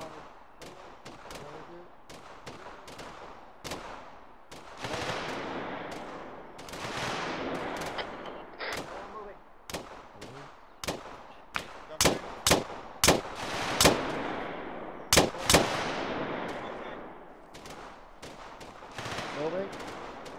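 Gunfire in Arma 3 during a military-simulation section battle drill near trenches: dense bursts of rifle and machine-gun fire over twenty seconds, with sharp, loud single reports clustering toward the end and radio-style voices talking between shots.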